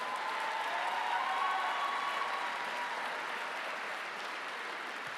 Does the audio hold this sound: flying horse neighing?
no